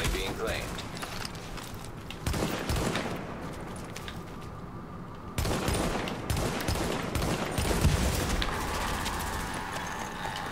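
Video game gunfire with fire bullets crackles in dense, rapid volleys across a busy, continuous battle soundscape, loud and close.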